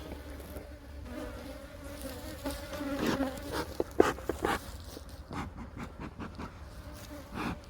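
Honey bees buzz continuously at close range in a hive box, a dense droning hum with a few louder passes and some handling knocks, no talking.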